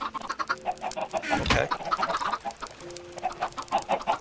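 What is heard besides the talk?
chickens clucking in Minecraft video game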